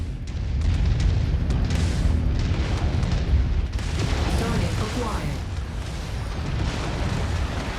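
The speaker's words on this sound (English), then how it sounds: "Your kill is about to explode, Commander." Battle explosions from the MechWarrior 5 Mercenaries video game roll on continuously as deep, loud booms and rumbling blasts with crackling bursts layered throughout.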